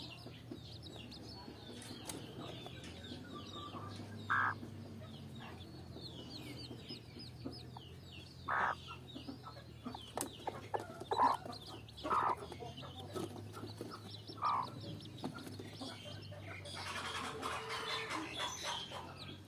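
Young chickens cluck and peep in short, scattered bursts against a quiet farmyard background with a low hum, a few calls sounding close and clear among softer ones.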